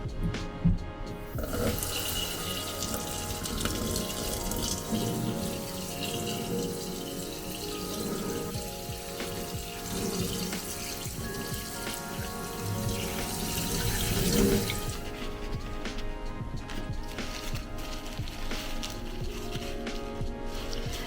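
Steady running tap water splashes continuously into a sink, with faint clinks of pork belly being gently washed under the stream throughout.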